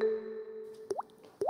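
Two quick water-droplet plops, each with a rising bloop, made by a person imitating dripping water against a faint steady hum.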